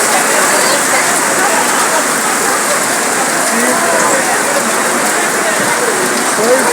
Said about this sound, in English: it's raining solid. It's raining stone.